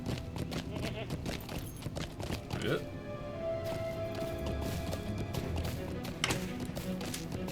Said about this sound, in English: I guess you could hear the hoofs of my horse. The beating hoofs.